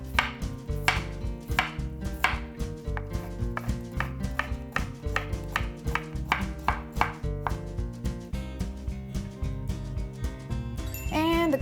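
A radish being julienned with a knife on a cutting board, rapid steady rhythmic chopping strikes close by over light background music, ending with a short tinkling ring.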